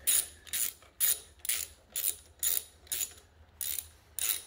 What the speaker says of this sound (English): loosen up your tappet cover